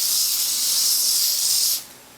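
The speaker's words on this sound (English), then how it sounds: "I'm going to spray it again" Steady hissing spray from a bottle misting water onto knitted lace being blocked, one continuous burst of close, bright mist lasting under two seconds before cutting off, with no talking.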